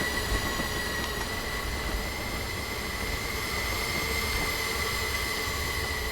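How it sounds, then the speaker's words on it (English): A milk train running at high speed, around 50 miles an hour, in a train game: a loud steady rail rumble with sustained wheel squeal and metallic ringing tones, constant and close, no talk. "Note to self, a milk train can do 50 miles an hour."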